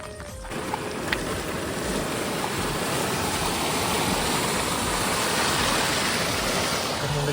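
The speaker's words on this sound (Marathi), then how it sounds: "काल संध्याकाळ पूर्ण नदीला असा पूर आलेला आहे" A flooded river rushes past farm fields after heavy evening rain, producing a loud, continuous broadband roar of churning water with no pauses.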